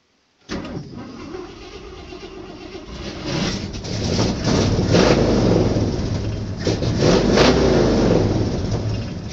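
A 1967 Mustang Fastback with the S-Code engine starts up and pulls away on a cold day, a low rumbling engine that swells into revving with rising and falling throttle, loud and close.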